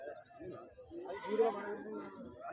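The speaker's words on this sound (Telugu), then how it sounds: "పెద్ద సైజు మేకలు, ఏలువాడి మేకలు" Large Elluvadi goats at a weekly Friday livestock market in Husnabad give a drawn-out, wavering bleat of moderate loudness, mixed into the crowd's murmur and nearby voices.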